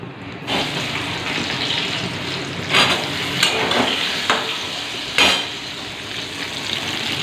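Potatoes for a curry hit a hot pan and fry with a loud, continuous sizzle close by, broken by several sharper bursts as they are stirred and shifted.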